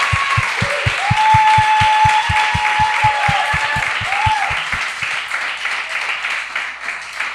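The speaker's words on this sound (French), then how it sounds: "une bonne main d'applaudissements pour Brian Piton et Cathy Gauthier" Studio audience applauding talk show guests on a French-language comedy talk show, a steady dense round of clapping that stays loud for several seconds and then tapers off, with a voice speaking over it near the end.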